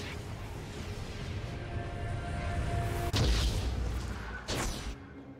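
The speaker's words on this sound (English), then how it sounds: "Team's turret has been destroyed." A turret explodes in League of Legends during a top-lane Yone versus Irelia match, heard as two sharp, loud blasts that stand out from the steady game ambience and background music.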